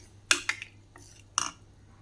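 Spoon stirring custard ingredients in a pot, giving three sharp metallic clinks and scrapes spaced across the moment, close and fairly quiet with no talking.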